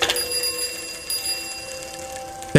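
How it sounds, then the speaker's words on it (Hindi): A bicycle bell rings out in a spooky ghost story, giving a bright metallic ring that hangs and fades, followed by a second sharp strike at the very end. "थोड़ा आगे जाने पे मुझे पीछे से एक साइकिल की घंटी सुनाई दी।"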